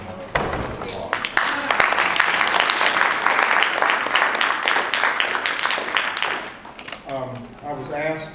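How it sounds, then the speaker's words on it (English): Audience applause at a Ladies First graduation ceremony: a crowd claps loudly and steadily for several seconds, then the clapping thins out as a voice begins speaking near the end. "So I just want them to get another applause."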